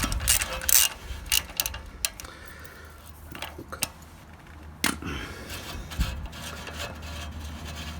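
A ratchet fitted with a hex socket turns a worn screw on the catalytic converter of a Peugeot 107, Citroën C1 or Toyota Aygo, giving a series of sharp clicks and short metallic bursts with pauses between them, close up.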